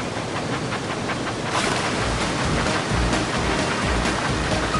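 Steady rushing water from the wild water slide at Water Slide Mountain in the Thomas and Friends: Magical Tracks game, with a dense continuous wash that swells and surges a few times and has no talking over it.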